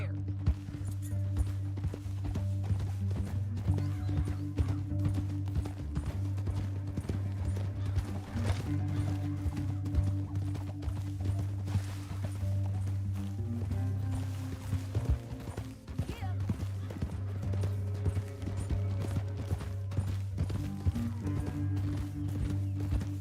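Horses clip-clop steadily through Red Dead Redemption 2 with an occasional whinny, hoofbeats running continuously under a dense, loud score of music and ambient game sound.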